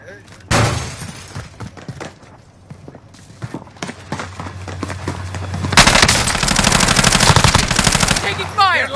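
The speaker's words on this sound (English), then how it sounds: "Taking fire! They're lighting me up!" Rapid automatic gunfire and scattered shots from a first-person military shooter game's prison-break mode, loud and near, building to a dense sustained burst in the second half, with bits of in-game voice beneath.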